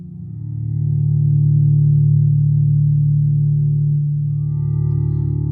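Electric guitar played through a Polara pedal, holding a low, smooth, droning tone that swells in and sustains steadily for several seconds, close and fairly loud with no voices.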